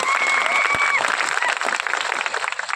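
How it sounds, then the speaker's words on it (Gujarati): Audience applause at a birth anniversary celebration meeting honoring a tribal leader: a dense, steady wash of many hands clapping at moderate distance throughout, with a faint crowd murmur underneath. "આપણે સૌ એમના માટે એકવાર જોરદાર તાળીઓ ફાડી લઈએ"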